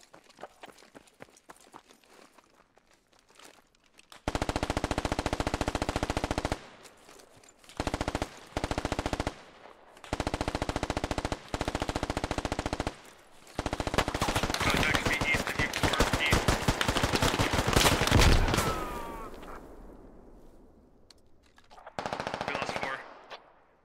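Heavy automatic gunfire in the video game Squad, loud and close, comes in long sustained bursts broken by short gaps, then a final short burst after a quieter stretch with rustling movement.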